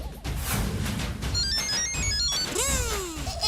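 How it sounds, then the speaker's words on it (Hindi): A mobile phone ringtone plays loudly, a bright repeating electronic melody that carries on for a few seconds with no talk over it. "अभी ये रिंग सुने तो अच्छा है"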